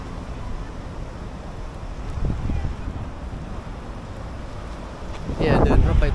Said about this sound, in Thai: โอ้โหนี่ลมแรงมากเนี่ยครับ